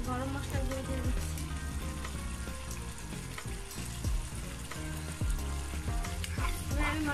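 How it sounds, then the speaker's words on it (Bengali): Mutton with ground pepper, garam masala and other spices fries steadily in a pan, giving a continuous sizzle beneath prominent background music. "আমি মশলাটাকে ভালোভাবে কষিয়ে নিচ্ছি।"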